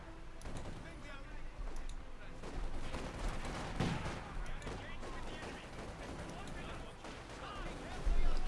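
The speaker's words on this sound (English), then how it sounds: "Now we got a heavy mortar out here for Littlesam as well, bringing in some heavy artillery to smash the fascists from above." A heavy mortar in Company of Heroes 2 joins dense battle gunfire and explosions, a constant layered din with booming thuds under continuous commentary.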